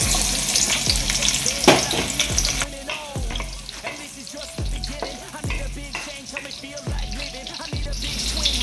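Onions fry in a hot pan for egg fried rice, a steady loud sizzle broken by regular scraping strokes of a spatula about once a second.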